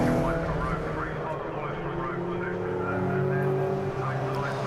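A Toyota MR2 race car engine drones from onboard during a championship race at Brands Hatch, a steady loud buzzing roar with shifting pitch, and a commentator talks over it throughout.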